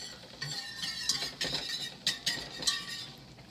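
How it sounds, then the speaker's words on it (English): A utensil scrapes and clinks against a pan while chocolate chips and butter are stirred as they melt, making a run of soft, irregular scraping strokes with light metallic clinks, close by and quiet. "you want to continuously stir this so the chocolate doesn't stick to the pan"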